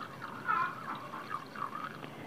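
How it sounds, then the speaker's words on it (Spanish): Water pours into a jug at close range, a quiet gurgling stream whose pitch wavers as it fills, soft and uninterrupted for a couple of seconds. "Llenamos la jarra."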